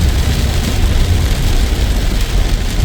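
Heavy morning rain pours down along a toll-road commute, a loud, dense, unbroken roar of falling water close by, with no voices over it.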